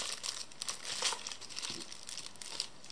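Small plastic packets from a craft surprise kit crinkle and rustle continuously at close range, a bright crackling texture with no talking.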